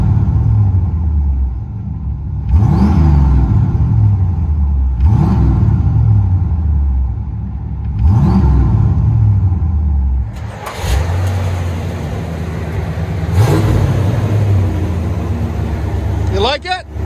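Straight-piped 1980 Chevy Corvette with a 350 V8 and dual exhaust, heard from inside the cabin: a deep, loud rumble that swells in three or four repeated revs, then a steadier, rougher drone, with people talking over it.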